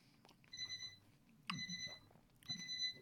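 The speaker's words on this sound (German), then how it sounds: "Mein Wecker klingelt." An alarm clock beeps in three repeated bursts, each a rapid electronic chirp of high tones, fairly quiet against a low background hum.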